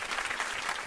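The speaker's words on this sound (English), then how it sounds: "Here's applause for you." A brief, faint burst of audience applause at a Garifuna music and talk event, a short spatter of clapping from a small crowd.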